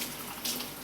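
Tap water runs in a short, steady stream while red peppers are being washed.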